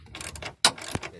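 A ratchet wrench with a 10 mm socket clicks in short bursts, faint and close, as it unscrews the bolts on the soft top cover motor carrier of a BMW E36 3 Series, with one sharp louder click midway.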